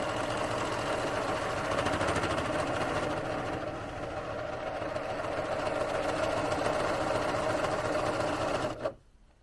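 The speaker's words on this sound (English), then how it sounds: "now I'm taking it to the serger" Serger overlocking the trimmed edge of a quilt, running in a steady, continuous mechanical hum and whir at close range for several seconds before stopping abruptly near the end.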